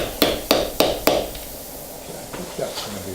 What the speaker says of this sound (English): Hammer it more.